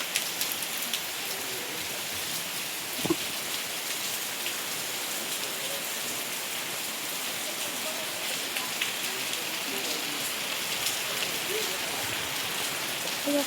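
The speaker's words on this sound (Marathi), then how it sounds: "ते बघा, पूर्ण पाऊस पडतो." Heavy rain falling in a village, a steady, even hiss of downpour on surfaces that runs without a break, close and fairly loud, with one brief thump early on.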